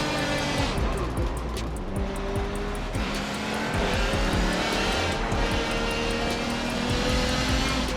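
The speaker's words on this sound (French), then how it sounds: "je suis dans ma Peugeot et sur le circuit des 24 heures du Mans" Peugeot race car lapping the 24 Hours of Le Mans circuit in a racing video game, its engine droning loudly and continuously with shifting pitch through gear changes, tyre noise and other cars mixed in, no talk.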